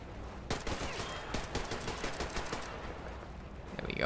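An assault rifle fires rapid automatic bursts in Metro Exodus, with sharp, close shots cracking in quick, uneven strings over a few seconds. No one speaks.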